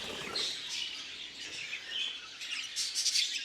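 Budgerigars from a breeding stud chirp and twitter continuously in a dense, bright chorus, fairly close and moderately loud, with no talking.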